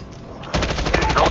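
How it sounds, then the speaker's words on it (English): Gunfire in Call of Duty Zombies on the Shi No Numa map with the Double Tap perk, a dense burst of rapid close shots starting abruptly and continuing loudly to the end, with no talk. "Double tap. Much better than firing a shot. Firing two shots at once."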